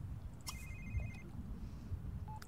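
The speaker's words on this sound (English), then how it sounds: "answer your phone, first of all." A phone rings in The Sims 3 video game: a short electronic ringtone with a repeated pulsing tone, moderately loud over a low ambient hum, followed by a brief chime.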